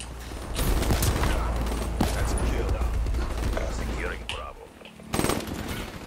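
Sustained automatic fire from an M8A7 rifle in Call of Duty multiplayer, a loud rapid stream of shots running several seconds, pausing briefly, then bursting again near the end.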